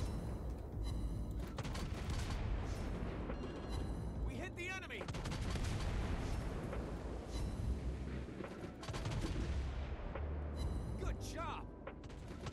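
Video game gunfire rattles in dense, continuous bursts and booms throughout, with heavy weapon fire and explosions layered over excited players talking.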